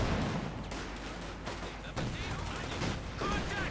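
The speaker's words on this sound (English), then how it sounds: "There's intense fire from several German defenders" Gunfire in the Company of Heroes 2 real-time strategy game, with German defenders firing during a battle: repeated bursts and volleys of shots, some rattling like machine guns, amid a dense battle din.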